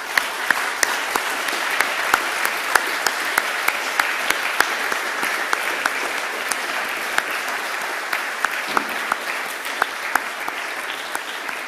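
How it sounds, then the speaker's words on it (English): Audience at an AI summit talk giving sustained, even applause, a dense continuous patter of many hands with occasional sharper individual claps, steady in level throughout with no speech over it. "Give them a warm applause."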